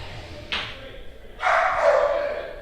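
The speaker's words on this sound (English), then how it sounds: "dog barking in the background" A dog barks in the background, a sharp yelp followed by a longer, louder bark-like burst, set against a low, muffled room hum.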